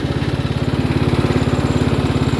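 Lawn mower engine with its deck removed runs steadily at a fast, even putter, close and loud, with a regular pulsing rhythm throughout and no voices.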